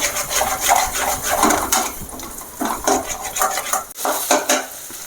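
Vallarai greens and egg are sautéed in a pan with close, loud scraping and clattering of a utensil against the metal over a low sizzle. The stirring comes in uneven bursts, and no one speaks.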